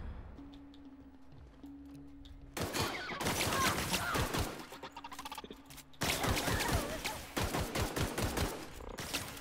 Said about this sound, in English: Did I just shoot her on accident?